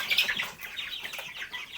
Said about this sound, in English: let's say hi to the chickens. Good morning, chickies.